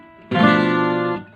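A 12-string guitar sounds a single half-diminished chord, a sudden loud sustained strum that rings for about a second before cutting off, heard close and alone.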